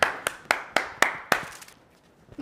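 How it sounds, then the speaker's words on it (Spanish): A handful of distinct, evenly spaced claps ring out close by, about six sharp hits in quick rhythm before fading to quiet. "Recibámoslo con un fuerte aplauso"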